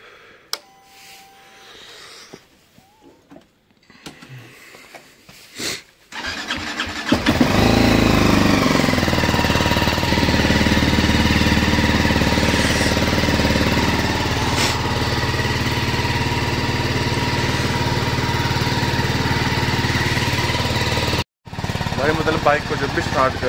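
A motorcycle engine cranks after some quiet handling noises, fires up, and settles into a steady loud idle, with a voice speaking briefly over it.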